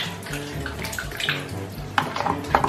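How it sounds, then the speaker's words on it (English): Water pours from a pierced plastic bottle with its cap released, a close, steady trickling stream for hand washing, with splashy spikes as it hits hands near the end. "as soon as you release the cap, the water comes out"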